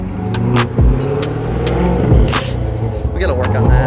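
A Corvette engine hums and climbs in pitch as it revs briefly, with short clicks and people talking nearby.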